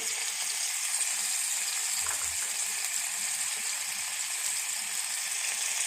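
Panch phoron with ginger and green chilli paste fries in hot oil in a kadai, giving a steady, bright sizzle that holds constant throughout, with a faint clink partway through and no talking.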